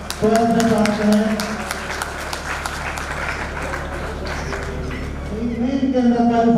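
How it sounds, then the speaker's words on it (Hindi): At a Kshamavani festival and honours ceremony, a crowd claps to welcome a student, a scattered burst of applause in the middle with a voice speaking before and after it. "जोरदार तालियां बजाकर बच्चे का स्वागत कर रहा है"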